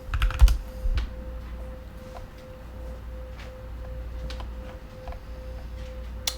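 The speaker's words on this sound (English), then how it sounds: "But let me just type it here." Fingers type on a computer keyboard in a quiet room, with a close, uneven run of light key clicks and a few louder taps, under a faint steady electrical hum.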